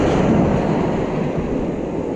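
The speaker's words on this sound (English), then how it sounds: "now don't turn your back on the waves." Ocean waves break on a beach as a loud, broad, continuous rush of surf, close by and unbroken.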